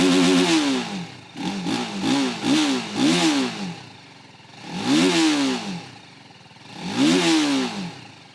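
TVS Apache RTR 310 motorcycle engine and exhaust revving while stationary: several quick throttle blips in a row, then two longer separate revs that rise and fall, heard up close with no talk.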